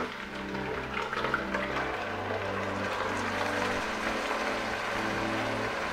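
Water swishes around a bowl in a home kitchen while tomato bolognese sauce is cooked, a steady rushing wash under soft background music with no talk.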